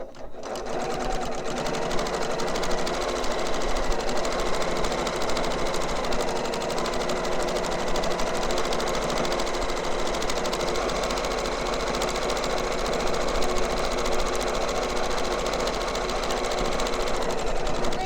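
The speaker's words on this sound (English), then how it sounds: "So this is just our stitching to make sure that we're closing our opening." A sewing machine stitches closed the opening of a quilted heart with a seam about 1/8 inch wide, running as a steady, close, continuous whir for the whole stretch with no talking.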